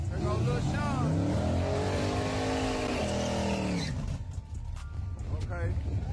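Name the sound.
street racing car speeding past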